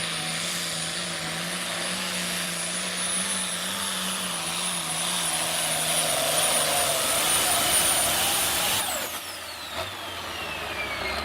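Hot stock pulling tractor from the 2020 Snyder County pull roars steadily and loudly through a run, its engine drone rising slightly before cutting off abruptly near the end.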